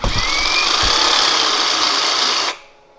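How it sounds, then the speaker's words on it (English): A reciprocating saw runs loud and steady with a buzzing whine while the side of its blade scrapes material, then cuts off abruptly near the end, leaving quiet. "Sometimes you can use the side of your blade as a scraper"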